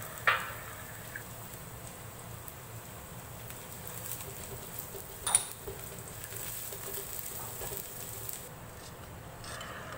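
Ginger stir-frying with salt in a hot pan, a continuous soft sizzle with occasional scrapes and taps of the spatula, steady and close with no talking.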